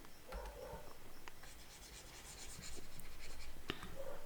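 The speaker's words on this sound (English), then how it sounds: "I write it properly." Pen or marker writing during a grade 11 maths lesson on number patterns and sequences, quiet and close, with short scratchy strokes and rubbing that continue steadily throughout, no talking.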